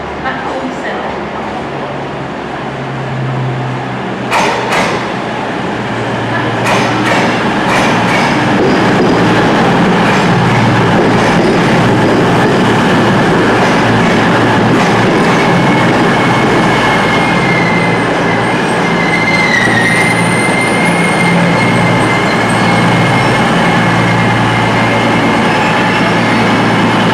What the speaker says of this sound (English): the 2114 Northern service to Manchester Piccadilly will now depart platform 7